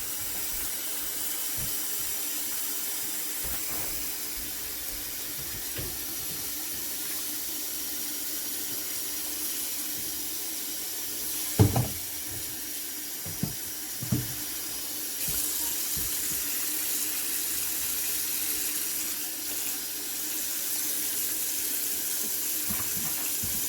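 Tap water running steadily into a sink while a lace frontal wig is washed with purple shampoo and conditioner, a continuous close hiss broken by a few soft splashes and handling knocks, with no voices.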